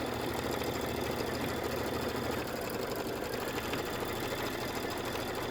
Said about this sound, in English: we are stitching on the edge